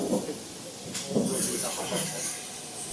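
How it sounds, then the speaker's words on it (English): A Southern Railway Battle of Britain Class steam locomotive, built in 1947, hisses steam at a station platform, a broad airy hiss rising and lingering at moderate distance while a person talks over it. "At the other end of the train was the big surprise, a steam locomotive."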